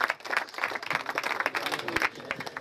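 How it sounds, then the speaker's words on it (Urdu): A seated audience at an Urdu poetry gathering claps to welcome Colonel Tahir Waheed, an uneven burst of many hands, moderately loud and close, rising and dipping in intensity across the stretch. "آپ سب کی تالی کی گونج میں آپ سے گزارش ہے کہ ان کا کھڑے ہو کر استقبال کیا جائے۔"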